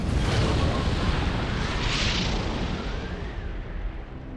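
MAC rounds blast in Halo Wars, a heavy explosion with a deep rumbling roar from the start and a rushing hiss around the middle, slowly fading over several seconds.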